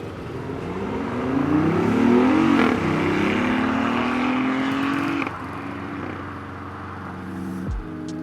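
Supercar engine revving hard, its pitch climbing and sweeping through several loud throttle blips, then settling into a steadier, slightly quieter drone near the end.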